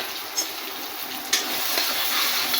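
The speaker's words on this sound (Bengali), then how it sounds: "এখন আমি এটা তেলের মধ্যে ভেজে নিব।" Soybean chunks frying in hot oil, a dense, steady sizzle that stays loud throughout, with a couple of sharp clinks from a utensil against the pan.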